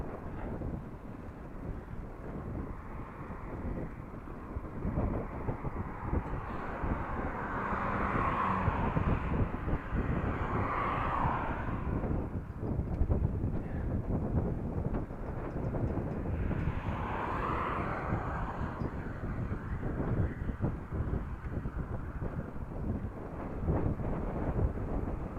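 Steady wind roaring across the microphone while riding a bicycle, a loud, continuous rush with slow swells in strength and no talking.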